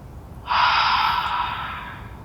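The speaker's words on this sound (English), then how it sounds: "Cleansing breath in through the nose and out the mouth." One long, close breath exhaled steadily through the mouth during a morning yoga stretch, a soft airy rush lasting nearly two seconds that slowly fades.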